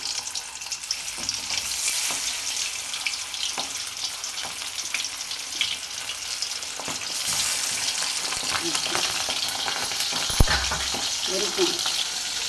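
A fish head frying in hot oil in a home kitchen: a loud, steady, close sizzle and crackle fills the whole stretch, with occasional spatters and faint clinks of a utensil.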